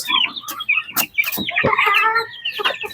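Shamo oriental chickens in a backyard, clucking and calling loudly and close by, several birds overlapping in a busy, irregular chatter.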